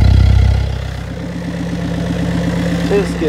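Skid steer engine idling after a cold start, a steady low rhythmic diesel chug with mechanical rattle, close, following a louder burst at the start; a voice speaks over it.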